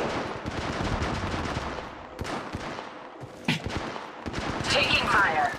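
Gunfire rattles in the mobile game Apex Legends Mobile, bursts of automatic shots mixed with game effects and voices throughout, a sharp crack near the middle.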